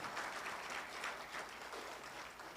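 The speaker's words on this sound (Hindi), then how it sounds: "जोर से ताली बजाना चाहिए भाई साहब" Audience applause at an insurance agents' celebration event in Nagpur, a continuous, fairly faint and even patter of many hands clapping from the hall.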